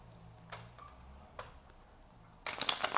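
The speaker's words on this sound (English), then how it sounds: "Give it a shuffle." A deck of Sage Tarot cards is riffled and shuffled in a brief, close crisp burst of papery flutter at the end, after a few soft isolated taps and handling sounds.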